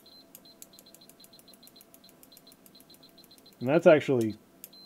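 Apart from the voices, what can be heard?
multimeter beeping in diode test mode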